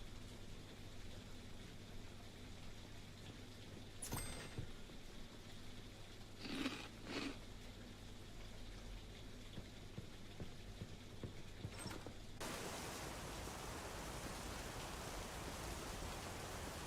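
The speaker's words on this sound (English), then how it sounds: "Man, it's raining a lot in your city." Steady rain falls in the Big Ambitions video game, a constant hiss of downpour with a few faint clicks, growing denser and brighter toward the end.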